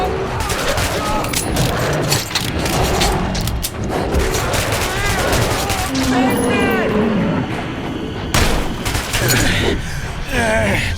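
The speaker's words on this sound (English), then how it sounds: "Shoot them! You shoot!" Dense gunfire from the video game Metro 2033 crackles in rapid bursts and single shots amid booming impacts, while shouting voices and yells carry over the battle throughout.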